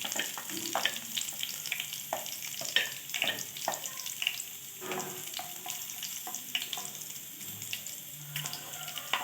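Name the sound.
whole spices sizzling in hot oil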